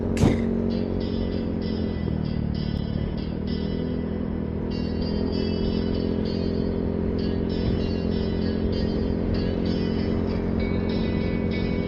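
Steady road traffic hums and rumbles past on a road in La Union, a continuous engine drone with passing vehicles and no clear speech.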